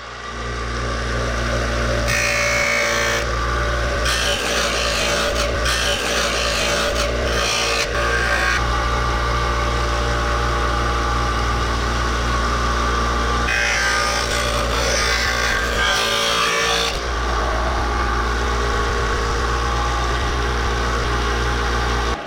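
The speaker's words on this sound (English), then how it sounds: "The next step is we're going to take it over to our sander" A power sander grinds steadily against a large wooden musky fishing lure, with a constant motor hum and bursts of louder rasping as the piece is pressed and lifted, close up.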